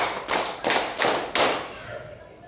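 Several loud, sharp clap bursts in a steady rhythm, a group clapping along in a classroom clapping game, each clap ringing briefly before the next, fading out at the end.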